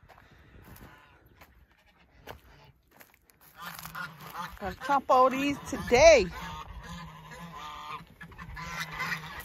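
Geese honk excitedly in a burst of loud, overlapping calls at a woodpile, rising after a quieter start, while a person speaks nearby.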